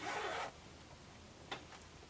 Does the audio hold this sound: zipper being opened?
yes